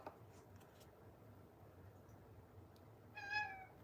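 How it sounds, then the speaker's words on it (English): A pet cat meows once, short and fairly close, near the end of an otherwise quiet room with faint background noise. "Can you hear my cat?"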